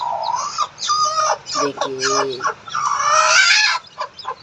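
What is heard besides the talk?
desi hen clucking with newly hatched chicks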